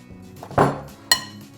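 Metal mixer beaters being pulled apart after mixing chocolate chip cookie dough, two sharp metallic clinks about half a second apart, close and clear against a quiet kitchen.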